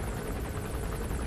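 Helicopter circling overhead in the video game Metal Gear Solid V, a loud steady rotor thrum with rapid rhythmic chopping pulses, continuous and close, with no speech over it.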